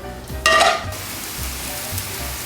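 Ham sizzling in a hot pan for a Cubano sandwich, a steady close frying hiss with a brief scrape of stirring near the start.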